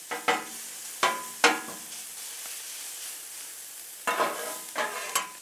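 Sausage cooks on a Blackstone flat-top griddle, a steady close sizzle broken by about six sharp scraping strokes of a spatula, clustered early and again near the end, with no talk.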